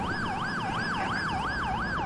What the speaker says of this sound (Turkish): Ambulans gelsin.